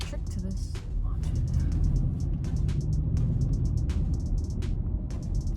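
A 2016 Ford F-150 pickup in sport mode roars under acceleration, its engine a loud, steady low-end rumble close by, punctuated by brief sharp clicks and ticks over the top.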